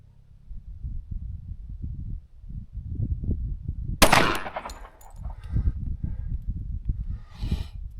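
A Kimber 1911 .45 ACP pistol fires a single loud, sharp shot at a shooting range, its report ringing out over low background rumble and handling noise.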